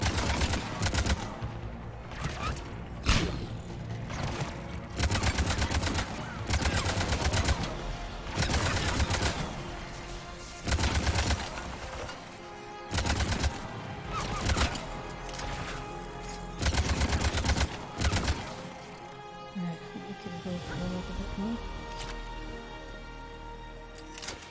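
Gunfire in the video game Mass Effect 3 as rapid bursts of weapon shots, repeated loud volleys in irregular clusters with brief pauses between them and some game effects near the end.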